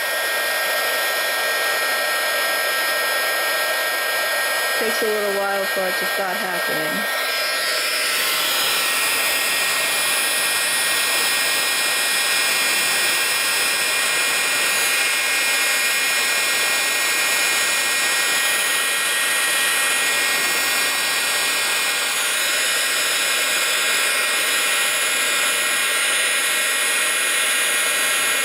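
An embossing heat tool runs loud and continuous on a Christmas card, a steady high blowing roar like a hair dryer that starts up a few seconds in, with a brief spoken remark near the start.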